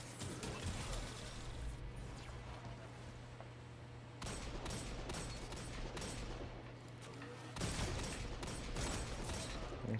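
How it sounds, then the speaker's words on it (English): Fusion rifle fire in the Destiny 2 shooter game, coming in several sharp, crackling bursts with short gaps between them over a constant low game hum, fairly faint overall. "Everybody's using fusion rifles."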